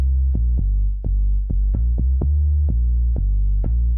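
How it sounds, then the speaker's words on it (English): A low, beefy dub bass synth plays a sustained rhythmic line of repeated notes, each with a sharp attack over a constant deep drone, loud and close with no voices. "This is just a low beefy bass."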